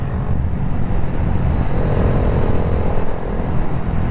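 Honda Grom motorcycle with an aftermarket Yoshimura exhaust runs nearby with a loud, steady low rumble that barely changes over a few seconds, with no speech.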